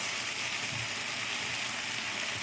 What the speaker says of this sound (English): That's an active sizzle going on there.